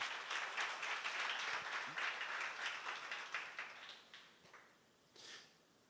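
A seminar audience claps along, a moderately dense patter of hands that fades out over several seconds, leaving a few scattered claps and a brief final burst at the end.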